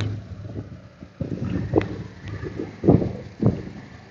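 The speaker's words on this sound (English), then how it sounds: "It's a little windy." Gusty wind buffets the microphone in uneven bursts, with a few louder gusts toward the end and no talking.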